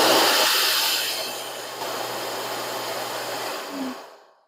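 A pet grooming dryer blows with its fan switched on, a loud, steady, close-up whoosh of rushing air that holds level for several seconds, then winds down and cuts off near the end.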